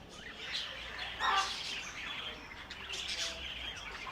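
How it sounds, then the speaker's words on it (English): African grey parrots chirping and screeching in a Botanic Gardens aviary, with overlapping bright calls and a sharper burst of squawks nearby, no talking. "they're all chirping away. Oh, it's the African greys."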